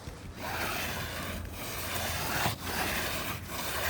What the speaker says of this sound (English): rub my hand to this area, and we have a lot of granules